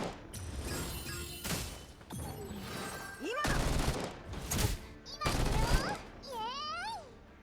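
Gunfire exchange during a GFL2 boss fight against the Fortress Titan: bursts of rapid shots alternate with game effects and chirping sweeps, under and between a speaking voice.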